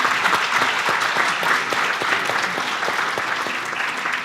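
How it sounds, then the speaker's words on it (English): Sustained audience applause for an artist at a gallery conversation event, dense and steady clapping from a crowd throughout, fairly close and loud with no voices over it. "let's give a round of applause for"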